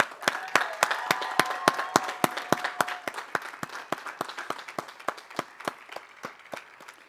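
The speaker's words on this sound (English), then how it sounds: "Please join me in giving these 6 extraordinary individuals a round of applause." At an outdoor college commencement ceremony, a few close hands clap in a slow, regular rhythm over thin, distant crowd applause, with a faint tone lingering under the first half.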